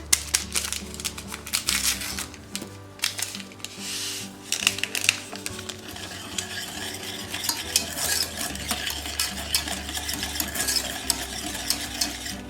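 Almond cake ingredients are mixed with sugar, giving a dense, busy rattle of stirring and clicking with repeated scraping strokes, plus a low steady mechanical hum underneath.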